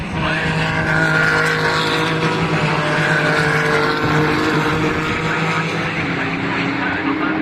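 Porsche race cars in a sprint race at Oulton Park, a loud continuous engine roar with shifting pitch as several cars pass close by, under excited commentary.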